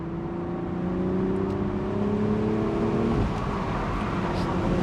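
A BMW Z4 M40i manual's engine drones loudly and steadily with rising pitch as it accelerates, then a gear change; heard from inside the car.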